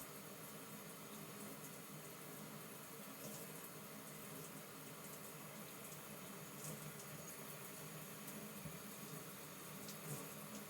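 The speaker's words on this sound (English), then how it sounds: "let's get in the shower and rinse all this out." Shower water runs steadily while hair is rinsed, a continuous even hiss and spatter throughout with no voices.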